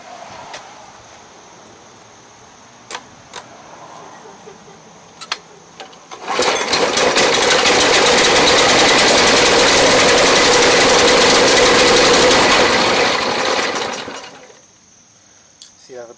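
A Snapper snow blower with a Briggs 824 engine starts up and runs loudly at a steady idle for about eight seconds before shutting down, with quiet handling noises before and after.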